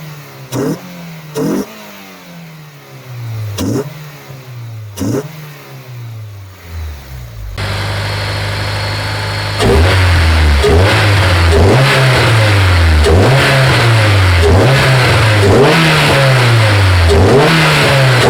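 An older project car engine cranks repeatedly in short bursts, fires up into a steady idle, then revs hard over and over in loud rising-and-falling surges.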